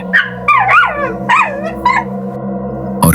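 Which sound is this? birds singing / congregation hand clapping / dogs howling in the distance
dogs howling in the distance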